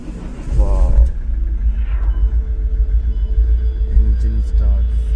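A Mahindra XUV500 W10 started by push button after sitting a long time rumbles to life and holds a low, steady idle close by, with a brief voice near the start.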